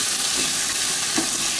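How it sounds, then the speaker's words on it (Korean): Vegetables stir-frying in a pan with soy sauce for a webfoot octopus and seafood scorched-rice soup, making a dense continuous sizzle and hiss. "그러면 볶은 상태에서 물을 좀 넣으시면 간장 향이 야채에 이렇게 고루고루 배겨요"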